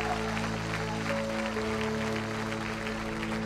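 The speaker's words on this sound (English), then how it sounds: "let's clap one more time to the Lord and give him praise for this word today" Congregation clapping in praise during a Sunday church worship service, blended with sustained organ or keyboard chords, steady and full-bodied throughout.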